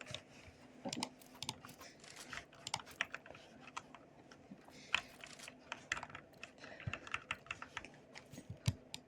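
A computer keyboard clatters with quick, irregular keystrokes during a CS2 one-on-one match, soft and close with no voices over it.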